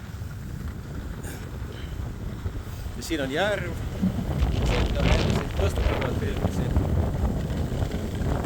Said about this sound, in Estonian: Ja siin on natuke tuuline muidugi.